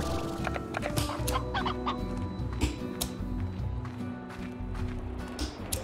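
A stony hen clucking in Slime Rancher, a run of busy clucks and scratchy steps over a dense game soundscape of music and ambient noise, fairly loud and continuous.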